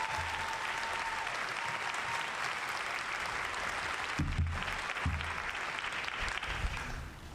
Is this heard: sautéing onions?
no